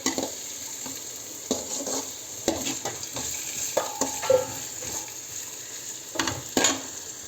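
Onions sautéing with ginger garlic paste in a pan, a soft steady sizzle broken by repeated scraping strokes of a spoon against the vessel, close and moderately loud.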